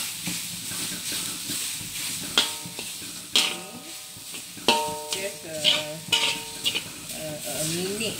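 Grated coconut is stirred in a dry pan, soft continuous scraping and hiss broken by sharp metallic clicks and squeaks of the spoon against the pan, close up.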